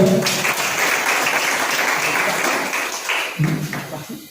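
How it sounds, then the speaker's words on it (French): An audience of young students applauds at an eloquence day event, a loud, dense round of clapping that holds steady and then thins out near the end as a voice begins to speak. "Sous vos applaudissements, s'il vous plaît."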